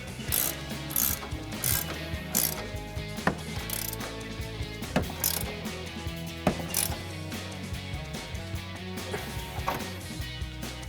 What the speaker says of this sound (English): I'll take my 19mm wrench and ratcheting wrench